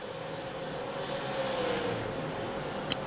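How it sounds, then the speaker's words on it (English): Race cars lap Five Flags Speedway in the Freedom 250: a steady engine drone holds at a distance with a slight rise and fall in pitch, and no voices are heard over it. "these cars sound super cool, man"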